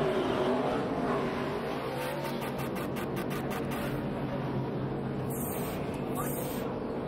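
NASCAR race cars accelerating off pit road during the 2009 Ford 400 at Homestead-Miami, a steady engine roar throughout, with a few sharper passes, under continuous commentary.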